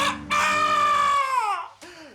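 A rooster crows loudly and close by in one long, drawn-out call that falls away at the end, followed by a brief second cry.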